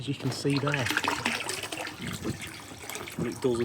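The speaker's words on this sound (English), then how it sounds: "gravity is pushing down on the water and it's pushing the water out at a good rate" Water pours steadily out of a homemade hot tub pool filter, draining by gravity in a continuous splashing gush beneath someone talking close by.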